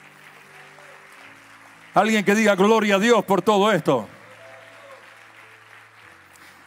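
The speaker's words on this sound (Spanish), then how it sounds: "Fuerte el aplauso al Señor." A church congregation applauds in a steady, moderate wash, heard alone at first, then under a preacher's loud spoken exclamation, and continuing afterward.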